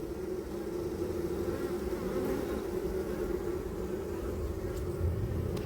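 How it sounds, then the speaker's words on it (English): A busy, working honeybee colony buzzes steadily and loudly during an open hive inspection at an apiary, a dense continuous drone with a few individual bees passing close. "it's a busy working colony noise, that"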